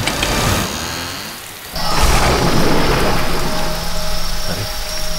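Heavy rain pours steadily, joined by a loud rolling rumble of thunder that swells partway through and keeps the downpour dense and close to the end.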